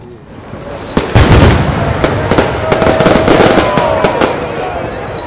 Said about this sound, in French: lorsqu'elles explosent, vous font un cercle de rayon de 200 mètres dans le ciel